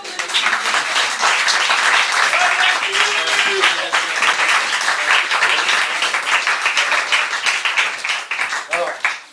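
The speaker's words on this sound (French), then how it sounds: "On applaudit Jackie, c'est son anniversaire." Audience applause for a birthday during a cabaret show on a boat, loud sustained crowd clapping with scattered cheers and voices mixed in, fading slightly at the end.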